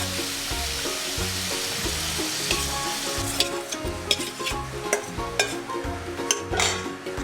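Rice being stirred in a pan with lemon juice and sesame powder, a loud close sizzle with rhythmic scraping strokes and a few sharp spatula clicks toward the end, no voices.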